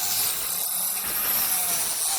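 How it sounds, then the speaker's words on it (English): A small puncture hole is drilled into a spray cheese can, giving a steady, gritty, high-pitched whirring and grinding up close, with no talking. "I'm going to start by just drilling a small puncture hole"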